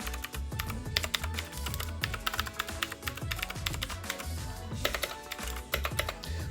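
Rapid typing on a Keychron K6 wireless mechanical keyboard with clicky blue switches, dense crisp clacks in a steady flurry, close up and alone.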